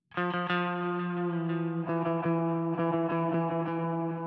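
A pitched-down bass tone runs through a Bigsby vibrato pedal set dark and muffled, sustaining steadily with a warbling, slightly distorted wobble and small rhythmic flutters throughout.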